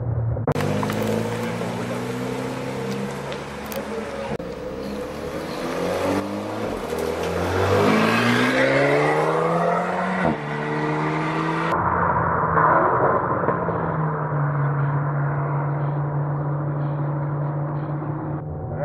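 A Renault Alpine on Bridgestone Potenza Sport tyres roars and revs continuously around a race circuit, rising and falling through gear changes as it accelerates and brakes, loud and close throughout.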